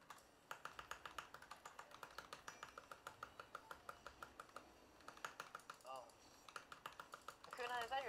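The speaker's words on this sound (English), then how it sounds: "Akuna, is that your keyboard?" Rapid, steady clacking of a computer keyboard being typed on continuously, fairly faint and close, with soft game sounds faintly in the background.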